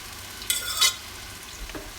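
A spatula stirs rice vermicelli dressed with soy sauce and carrots in a nonstick frying wok, two brief scraping bursts over a low sizzle, close and moderately loud.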